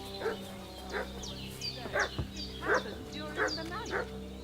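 A dog barks and yips repeatedly in the medieval video game Kingdom Come, a series of short, fairly close bursts at an irregular rhythm over a steady low background hum.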